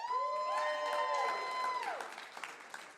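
A live audience at a podcast show in Boise breaks into applause and cheering, opening with a loud rising whistle that fades into a dense wash of clapping and whoops before the noise thins out.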